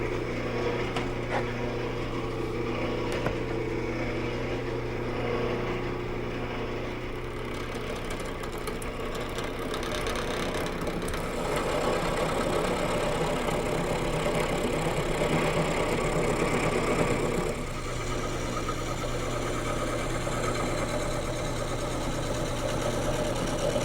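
A gouge roughs a wooden blank round as it spins on a lathe, a steady motor hum running under continuous scraping and chattering cutting noise, close and unbroken.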